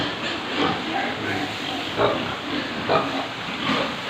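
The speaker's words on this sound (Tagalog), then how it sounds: "Yan sila guys, ang ating mga baboy." Pigs grunt in rough, irregular bursts over a steady hissing background, fairly close and moderately loud.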